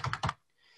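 Two quick computer keyboard key presses close together, crisp and near, followed by a faint quiet tail, with no talking.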